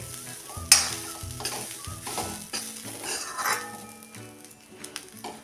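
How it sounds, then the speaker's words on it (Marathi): Fresh grated coconut sautéed and stirred in a pan for a fasting-day kheer, giving a steady close sizzle with scraping spoon strokes and occasional light clinks against the metal, with no talking. "ह्या खोबऱ्याचा कलर अजिबात बदलू न देता हे थोडंसं परतून घ्यायचं आहे"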